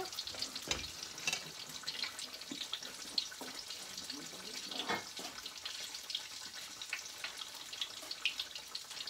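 Apple beignets fry in hot oil, a dense, steady crackling sizzle with bright spitting pops throughout, close and continuous.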